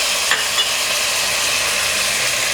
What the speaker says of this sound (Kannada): ಸೊ ಆನಿಯನ್ಸ್ ಎಲ್ಲ ಚೆನ್ನಾಗಿ ಫ್ರೈ ಆಗಿದೆ. ಇದಕ್ಕೀಗ ನಾನು ತೊಗೊಂಡಿರುವಂತಹ ವಿನೆಗರ್ನ ಹಾಕ್ತಾಯಿದ್ದೀನಿ.